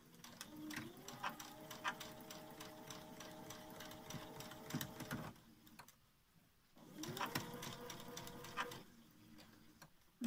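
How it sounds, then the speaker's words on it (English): Sewing machine stitching fabric mask pieces straight over pins, a steady rapid mechanical whirr in two long bursts with a short pause between, close and fairly loud. "you can actually sew over your pins, providing you put them in this way round"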